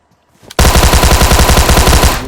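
A rapid burst of automatic gunfire in PUBG Mobile erupts suddenly and rattles on continuously at a steady fast rhythm, loud and close.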